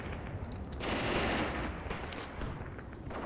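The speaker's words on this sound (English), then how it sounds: "They are shooting up towards the hill." An enemy two-gun battery fires in the wargame Graviteam Tactics Mius, heard as faint, distant rolling booms and crackling shots blending into a low continuous rumble.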